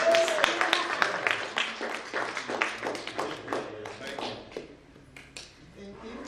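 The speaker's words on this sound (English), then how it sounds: "if you guys clap for these people" A small audience at an event claps in distinct, uneven hand claps that thin out and fade over several seconds, with voices talking over the applause.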